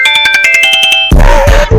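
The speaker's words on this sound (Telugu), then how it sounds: "ఫోన్ వస్తుంది." A mobile phone ringtone chirps in a rapid repeating electronic pattern, loud and close, before a voice speaks over it.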